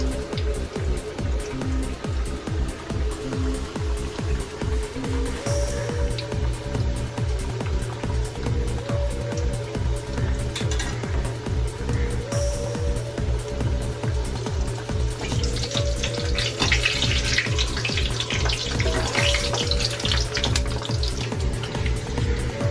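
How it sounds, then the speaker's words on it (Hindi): Onion-and-besan fritters frying in hot oil over a medium flame, a steady dense sizzle with crackling bubbling that runs continuously and fairly loud throughout, brightening and intensifying toward the end. "तेल गरम हो गया है। थोड़ा मीडियम आंच पे तलूंगी"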